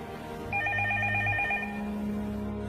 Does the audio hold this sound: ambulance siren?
no